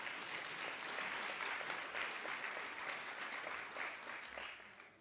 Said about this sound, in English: Can we please give Mr. Ngitila a huge round of applause?